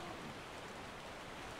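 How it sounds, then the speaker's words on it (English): Steady rain pours down in the video game ARK Survival Evolved, a continuous even hiss of falling water with no breaks across a brief stretch. "This rain's really coming down."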